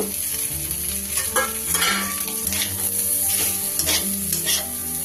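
Egg and vegetables stirred and frying in a pan for mixed fried rice, a loud continuous sizzle with steady scraping and stirring strokes throughout, no talking.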